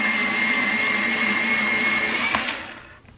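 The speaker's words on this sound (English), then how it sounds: "Let me sharpen one of these so you guys can see." An electric sharpener grinds an Arrtx colored pencil in a steady, close, loud motor whine that holds for over two seconds, then cuts off and winds down into quiet.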